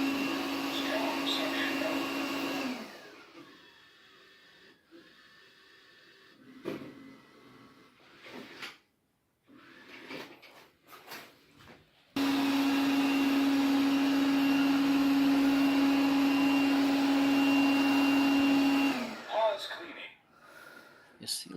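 Robot vacuum cleaner running with a roll brush and suction port, its steady whirring hum starting, stopping and then starting again for several seconds before cutting off, while a person talks in the gaps.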